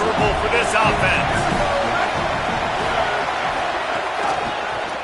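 Stadium crowd roaring in a college football video game, a broad, steady wash of cheering and noise with a commentator talking over it throughout.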